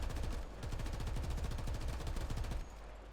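Commander's machine gun on an M1A2 tank in War Thunder fires a sustained rapid burst of evenly spaced shots for about two and a half seconds, then cuts off into a low rumble.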